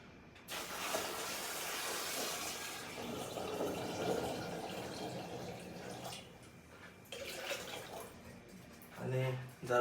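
Water pours into a jar for pickling marula fruit in a steady splashing stream lasting several seconds, then stops; a voice speaks briefly afterward.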